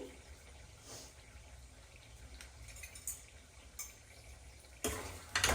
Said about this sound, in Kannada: ಇದನ್ನು ಸ್ವಲ್ಪ ಫ್ರೈ ಆಗೋದಕ್ಕೆ ಮಿಕ್ಸ್ ಮಾಡ್ತಿದ್ದೀನಿ